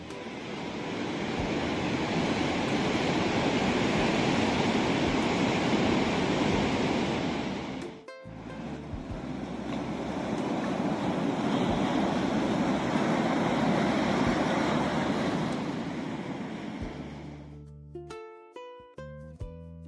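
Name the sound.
ocean waves crashing on rocks at Fisterra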